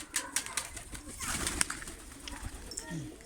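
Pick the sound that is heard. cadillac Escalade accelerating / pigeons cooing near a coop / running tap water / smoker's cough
pigeons cooing near a coop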